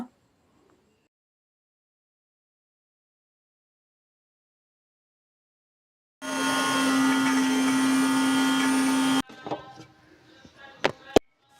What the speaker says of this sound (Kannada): ಇದನ್ನು ಮಿಕ್ಸಿ ಜಾರ್ಗೆ ಹಾಕಿ ರುಬ್ಕೊಳ್ಳೋಣ